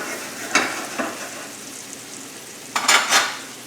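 Onions and mushrooms sauté in a pan with heavy cream, a soft low sizzle broken by a few sharp scraping stirs, the loudest burst near the end.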